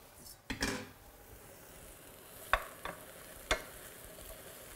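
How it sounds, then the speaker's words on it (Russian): Well-dried eggplant pieces dropped into a pan of translucent softened onion, a quiet low sizzle broken by a few sharp clacks of a utensil stirring against the pan. "Хорошо высушенные баклажаны отправляю к прозрачному луку."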